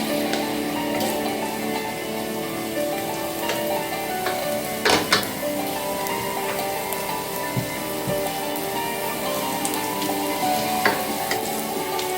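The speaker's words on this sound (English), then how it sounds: "I'm going to add some diced up garlic, not onions." Diced garlic fries in a pan for Jamaican-style pork fried rice, a constant close sizzle with occasional light clicks from stirring, and no talking.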